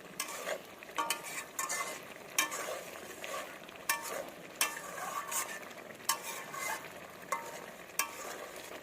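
Loitta fish frying in a pan with lemon leaves and green chilies gives a constant sizzle overlaid by repeated sharp scrapes and clacks of a spatula stirring, close and fairly loud, with no talking.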